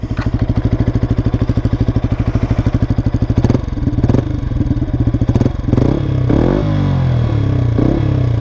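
A 2020 Yamaha MT 125 motorcycle running with its exhaust baffle fitted, close and loud: a rapid even idle pulse, then blips of revving and a choppier, rising engine note.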